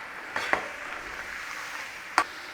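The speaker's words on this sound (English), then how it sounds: "when you've got your oil hot enough, in there with some of your bananas" Banana slices for Honduran tajadas fry in hot oil, a steady soft sizzling hiss broken by a few sharp metallic clinks as a utensil stirs them.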